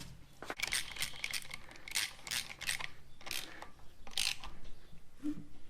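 A ratchet tightening the cam timing gear on a Holden HK 253 engine, a series of close metallic clicking bursts in short irregular strokes with light tool clatter between them.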